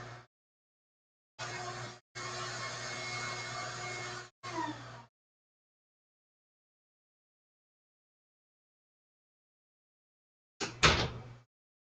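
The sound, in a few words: vacuum on an electric coffee roaster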